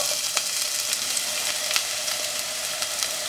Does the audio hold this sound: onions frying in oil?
yes